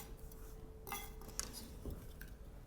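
Sharp kitchen knife cutting through a shallot on a board, a few quick chops and knocks close up with light clinks between them, no talking.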